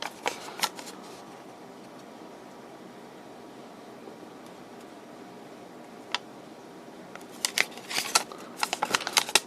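A sheet of paper found with a 1960 Akkord Pinguin U60-US transistor radio is handled and shuffled close by, giving soft crinkles and sharp rustling bursts at the start and again toward the end.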